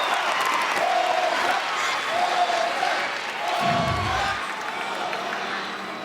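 A gymnastics arena crowd at an NCAA women's meet, Alabama vs Arkansas, cheers and applauds steadily through a floor routine's finish, a dense, loud wash of clapping and shouting throughout.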